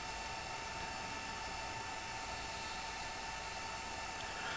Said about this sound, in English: That one server behind me is louder than all.